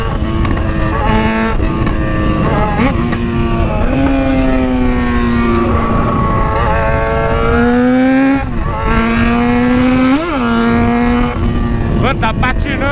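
A Yamaha XJ6 motorcycle on a cold engine revs hard while its rear wheel spins, the loud engine note climbing and falling in repeated bursts with someone talking over it.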